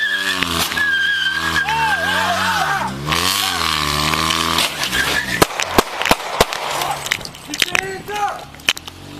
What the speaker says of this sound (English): Henderson makes the poor choice to start the engine and flee